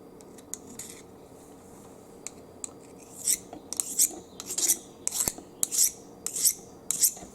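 A Corona AC8300 garden tool blade sharpener rasps along a pair of scissors in repeated short, gritty strokes, sparse and quiet at first, then quickening into a close, regular run of sharp scraping passes with no voices.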